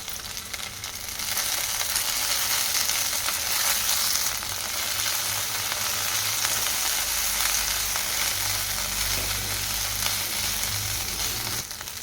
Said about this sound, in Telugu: ఆయిల్ హీట్ అయిన తర్వాత పచ్చిమిర్చి వేసుకోవాలి పది పచ్చిమిర్చి ముక్కలు వేసుకోవాలి